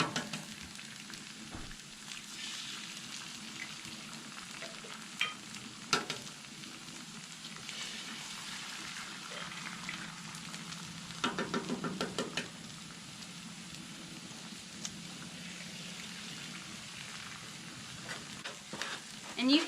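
Continuous crackling sizzle of eggs frying in butter in a pan for fried rice, with occasional louder pops and a brief burst of stirring, no voices.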